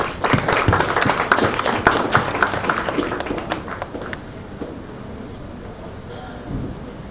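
An audience claps for presenters at a live event, loud dense clapping at first that thins and fades into quieter room noise.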